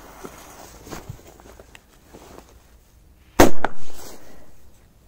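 A triangle-shaped firecracker bursts with one sharp, loud bang and a short crackling tail, after quiet outdoor rustling and faint footsteps.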